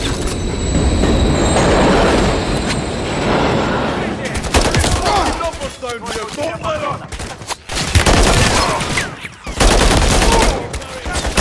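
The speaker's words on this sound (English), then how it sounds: "Crossing, watch the train!" A train rumbles through a crossing in a Call of Duty: Modern Warfare III mission, loud clattering rail noise mixed with bursts of gunfire and chaotic battle sounds, heavy and close throughout.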